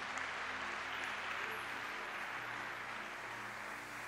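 A church congregation applauds during a worship service, steady clapping that fills the space at a moderate distance with a low murmur of voices underneath.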